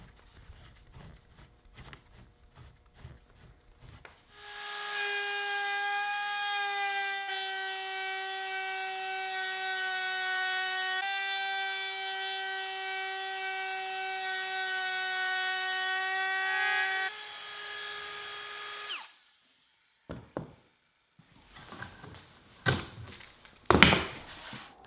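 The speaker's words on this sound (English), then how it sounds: "Now I can make the finished cut with the router" An electric router makes the finishing cut along the edge of a wooden entryway tabletop, a steady high whine held for about fifteen seconds, with knocks and handling noises before it spins up and after it stops.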